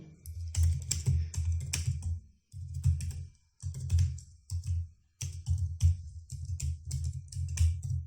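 Fingers type on a computer keyboard while code is written, bursts of rapid, close key clicks separated by short pauses, with no talking.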